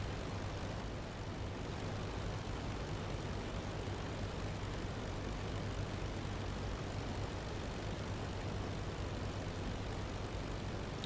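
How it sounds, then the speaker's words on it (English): A WWI plane makes a low flyover of an airfield in Rise of Flight, a steady unbroken propeller-engine drone with a constant low hum, moderately faint and unchanging throughout, no voices. "a flyover of the airport to make sure it's clear of any kind of debris"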